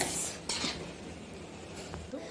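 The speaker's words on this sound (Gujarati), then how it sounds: "હવે આની અંદર મેં એડ કરી દીધી છે રાઈસ, અને હવે આને કરી દઈશ મિક્સ." A spoon scrapes and clinks against a pot as rice is stirred into chickpea pulao, a few close metallic strokes over a low background.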